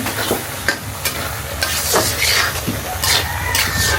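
Dal is being sautéed in a pan, giving a loud close sizzle broken by repeated scraping stirs of a spoon roughly every half second, with no talking.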